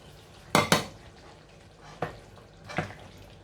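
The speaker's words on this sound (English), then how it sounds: "So now I'm just gonna add the fish." Dried fish dropped into a pot of Nigerian efo riro vegetable soup, with a few sharp metallic clanks and scrapes of pot and utensil: a loud double knock near the start, then two softer knocks, over a quiet background.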